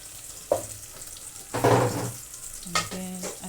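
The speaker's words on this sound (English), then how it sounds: "We're going to fry onions again" Onions frying in a pan for a home-cooked cabbage and chicken dinner, with bursts of sizzling as they are stirred, one sharp short hiss then a louder longer sizzle, near and clear, with a few clinks of utensils and no talk.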